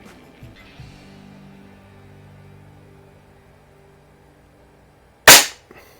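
Ruger Airhawk .177 break barrel spring air rifle fires a single sharp, loud crack near the end, after several seconds of quiet low hum and faint handling clicks.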